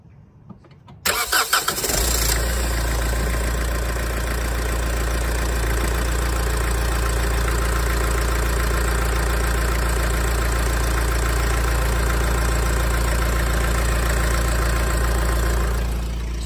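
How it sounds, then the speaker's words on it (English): A diesel car engine cranks briefly with the starter motor, catches loudly, and settles into a steady, close, continuous idle that runs on alone without any talking. "So I'm going to go start the car."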